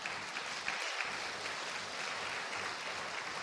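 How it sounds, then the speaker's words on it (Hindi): An audience at an evening spiritual class claps steadily, a dense, even patter of applause sustained throughout at moderate distance. "ताली बजाना कर सकते हो"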